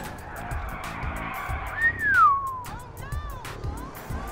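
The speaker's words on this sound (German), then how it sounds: "Stell dich nicht so an, ich kann selbst betrunken gut Auto fahren" Drunken car driving in Grand Theft Auto IV, with a rising then falling tire squeal as the car skids, over steady engine and game noise, while someone talks throughout.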